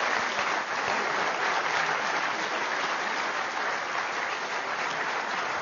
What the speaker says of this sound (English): let's give Dr. Benjamin another round of applause